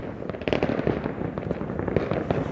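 New Year's Eve fireworks crackle and pop continuously, a dense stream of sharp bursts at moderate distance with no talking.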